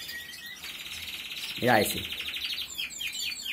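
Singing canaries with a metallic song repertoire trill in a sustained, high, bright rolling phrase, then a sharp downward sweep and quick chirps, fairly close, while someone speaks briefly over them.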